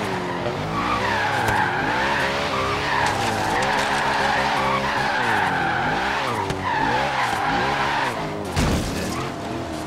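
Tire squeal from a car drifting in the video game Forza Horizon 3, long wavering screeches that rise and fall repeatedly over engine sound, ending with a brief impact near the end.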